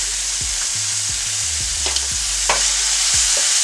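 A vegan dish with a little olive oil sizzles loudly in a pot, overlaid by a string of short scraping strokes from a spoon being stirred around.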